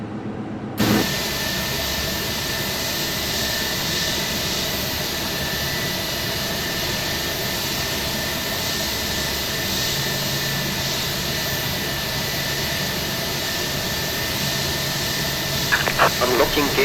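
Steady jet engine whine and rumble from an Airbus A320 in a flight simulator, engine 1 running stabilized on the ground before taxi, a continuous loud drone holding level throughout with a faint clicking near the end.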